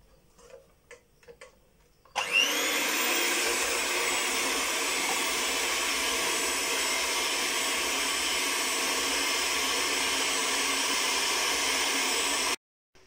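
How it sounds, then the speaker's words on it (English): An electric mixer beats egg whites for a chocolate mousse: after a couple of seconds of quiet clicks it starts abruptly and runs as a loud, steady whir for about ten seconds before cutting off, with no talking. "So then you're going to mix your egg whites until it's fluffy."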